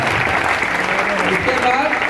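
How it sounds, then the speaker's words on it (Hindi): An audience at a recognition program claps steadily in dense, continuous applause, close and loud, for the whole brief moment. "जोरदार ताली होना चाहिए।"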